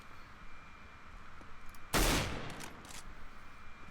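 A single sharp gunshot from the video game Counter-Strike: Global Offensive on the Dust 2 map cracks loudly midway, followed by a few fainter shots and a brief tail over low background noise.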